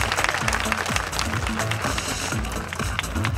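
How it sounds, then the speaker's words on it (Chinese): A stage audience applauds throughout as family members are called up at a live show, dense clapping holding steady for the full stretch with a faint rhythmic music bed underneath. "掌声鼓励一下。"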